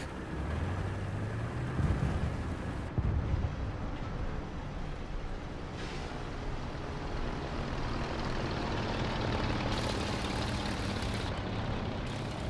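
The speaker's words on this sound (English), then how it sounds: "the plane is possibly coming back" A War Thunder aircraft drones overhead on a battlefield, a steady loud engine roar with rumbling low end that swells and persists throughout, heard alone without talk.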